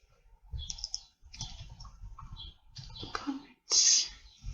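Typing on a computer keyboard while writing a git commit message in the Vim editor, a few scattered clicking key presses under quiet talk, ending in a louder burst.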